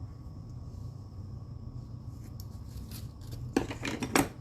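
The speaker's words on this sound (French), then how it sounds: "Je vais juste raccourcir un peu mon ruban." Scissors snip through a length of ribbon while making a handmade card, a couple of short crisp cuts near the end after quiet room tone.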